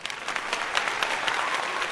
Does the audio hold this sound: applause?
yes